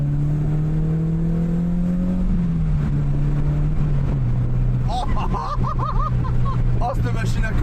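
Engine of a Peugeot 306 S16 car running steadily from inside the cabin, a deep hum that dips in pitch as the revs fall, with people talking over it during the second half.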